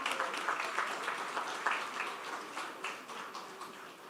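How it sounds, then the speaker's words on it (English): Applause for award recipients at the Leon Hess Comprehensive Secondary School graduation ceremony in 2024, a steady, moderately distant patter of many hands clapping throughout, with no talking over it. "let us give a big round of applause to all the recipients of awards today."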